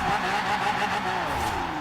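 Chevelle Super Sport in Forza Horizon 4 at full throttle, a loud, close engine roar whose pitch wavers and climbs as it pulls, with a rough low rumble underneath and no speech.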